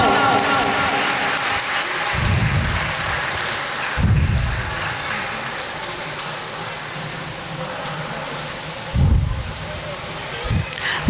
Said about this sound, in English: clapping so that little children feel encouraged and proud.